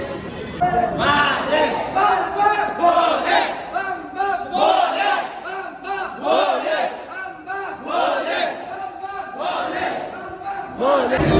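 A dense crowd of pilgrims packs Mahakaleshwar temple in Ujjain, many voices loudly chanting and shouting together in a continuous close roar with repeated rhythmic calls.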